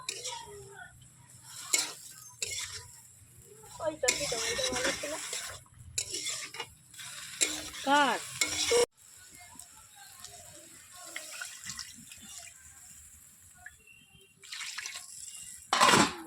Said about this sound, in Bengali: হালকা নাড়াচাড়া করছি হলুদ কম করেছে হলুদ দিয়ে হলুদ গুঁড়ো